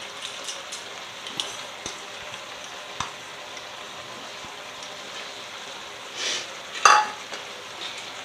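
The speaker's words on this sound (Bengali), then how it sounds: "এবার চিংড়ি মাছটা এর সাথে ভালো করে মিশিয়ে দেব" Fried prawns stirred into a thin, simmering gravy in a pan for bhuso chingri give a soft, steady sizzle with sparse utensil taps and a brief louder scrape near the end.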